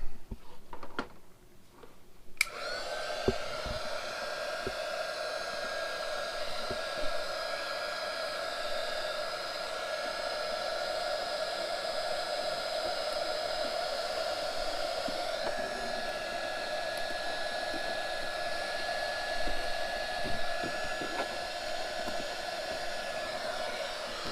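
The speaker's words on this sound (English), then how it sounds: "You can purchase this crafting heater and scraper blade, and you have a Goodwill sticker remover." A crafting heater switches on and blows hot air in a steady, close, uninterrupted whoosh to loosen a Goodwill price sticker before it is scraped off with a scraper blade.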